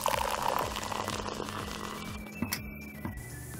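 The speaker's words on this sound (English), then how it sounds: "This time we're just gonna pour it in as fast as we can," Lava fizz liquid poured quickly into a toy dinosaur egg, a close fizzing, bubbling pour with small crackling pops and a few brief clicks toward the end.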